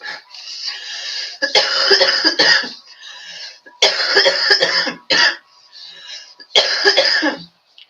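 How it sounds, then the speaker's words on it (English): Repeated harsh coughing fits come in several bursts, close and loud, with short pauses and a throat-clearing between them. "get all my coughs out before we get going"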